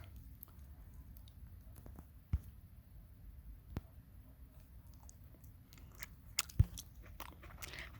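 Someone eats fresh plums, producing quiet, close chewing and a few sharper crunchy bites at scattered moments against a faint, still background, with no talk.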